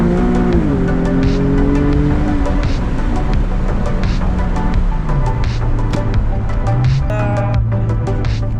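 A loud Nissan 370Z engine with a GKtech intake drones and revs close by, its pitch shifting as it accelerates, with a steady rumbling exhaust throughout.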